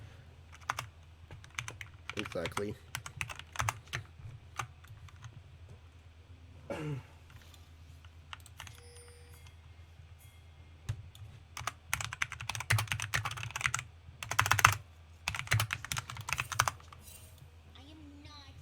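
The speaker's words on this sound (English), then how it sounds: "I'm just typing quickly" Fast typing on a computer keyboard comes in bursts of rapid clicking, close and crisp, separated by quiet pauses, with a brief spoken word in between.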